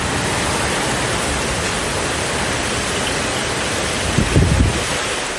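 Heavy rain driven by strong winds over Chennai, Tamil Nadu, produces a loud, dense roar of wind and downpour, with a brief gust swelling near the end.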